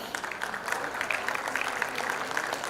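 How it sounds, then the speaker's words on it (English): Dense applause from a school prize-day audience in Jeddah honouring student toppers: a continuous, even patter of many hands at moderate volume, with faint voices underneath. "They truly deserve a huge round of applause, dear audience."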